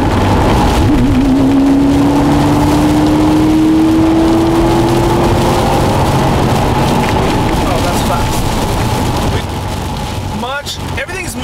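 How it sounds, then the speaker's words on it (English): A 2015 Subaru WRX STI accelerating on a highway: the engine note climbs steadily in pitch for several seconds over constant loud road and wind roar, then settles into a steady cruising drone. "So here we are on the highway doing less than 100. I'm gonna accelerate"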